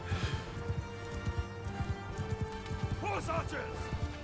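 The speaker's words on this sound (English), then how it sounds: "Horse archers!" Horses galloping in a medieval battle video game where horse archers ride in, a steady drumming of hooves under game music and clashing, with someone talking over it.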